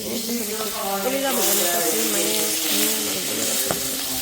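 Potatoes frying in a pan of hot oil, a steady close sizzle throughout with a faint clink near the end while a voice talks over it.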